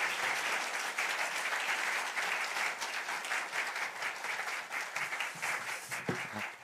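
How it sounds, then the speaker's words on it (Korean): A church congregation at a Sunday service applauds the pastor with dense, sustained clapping from many hands. The applause holds steady throughout, without speech. "우리 귀한 목사님 보내주신 하나님께 우리 감사의 영광의 박수를 올려드리도록 하겠습니다"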